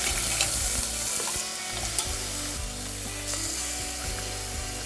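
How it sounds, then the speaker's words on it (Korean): Mussels and shrimp stir-fry in a pan of hot oil with garlic, a steady close sizzle broken by scraping and clattering stirs, with no one speaking. "기름에 마늘 향이 나기 시작하면 홍합과 새우를 넣고 볶아주도록 하겠습니다"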